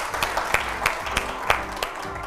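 An audience breaks into applause, a steady patter of clapping from a group with a few sharper claps standing out, fairly close and heard alone.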